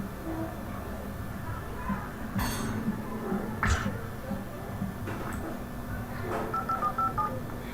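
Telephone keypad tones sound in Alan Wake Remastered as a phone at a gas station is dialed, a series of short beeps near the end over a low hum and faint clinks.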